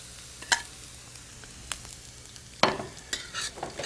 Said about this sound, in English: Fry up the chilies with the cumin seeds.